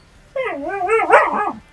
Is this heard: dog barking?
yes